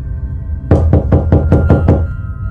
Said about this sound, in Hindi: दरवाजा बंद देखकर मैंने दस्तक दी।